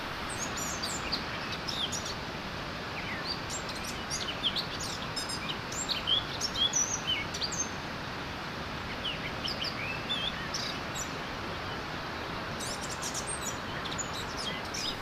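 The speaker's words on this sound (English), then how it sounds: "A joyful bird singing completes the beautiful landscape." Birds sing and chirp in a Ukrainian park, with bright repeated tweets scattered over a constant rushing background, moderately distant and fairly faint.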